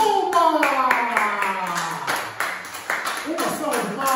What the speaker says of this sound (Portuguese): E isto merece também, e ali atrás também, uma salva de palmas!